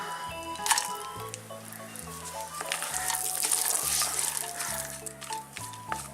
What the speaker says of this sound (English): Fry till cashew change its color